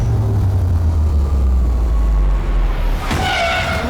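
A Porsche Taycan Turbo S, a 2.4-ton electric car with torque vectoring, drives fast on a track with a loud, close rushing roar that rises into a tire squeal near the end.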